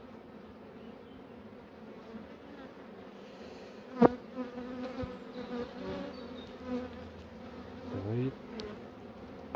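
Honeybees hum steadily around an open hive during a spring inspection in March, with a few sharp knocks and frame handling noises and a brief spoken word over the buzzing.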